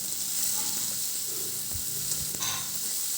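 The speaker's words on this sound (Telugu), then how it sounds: "ఇప్పుడు ఇలా కట్ చేసుకున్న టమాటీ ముక్కల్ని కూడా మనం ఇందాక ఫ్రై చేసుకుంటాం ఆనియన్స్లోకి వేసుకొని బాగా ఫ్రై చేసుకోవాలి" Tomato pieces fry with onions in a pan, giving a steady soft sizzle close up with a few dull thumps and scrapes of stirring, no talking.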